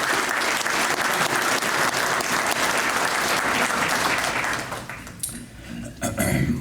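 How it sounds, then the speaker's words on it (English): Room-filling applause at an educator awards ceremony honoring committee members, a dense steady wash of clapping that thins out near the end as a few final claps trail off. "How about a round of applause for this?"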